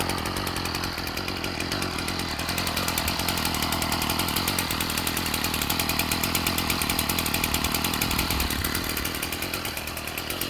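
A Ryobi 740r two-stroke engine making its first run after winter storage, buzzing steadily and loudly up close at a constant idle, with a rapid, even rasp and no voices.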